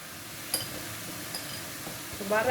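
Turmeric is stirred into a banana flower curry in a pan, giving faint scraping and a few soft clicks over a low kitchen hum, with a gentle sizzle near the end.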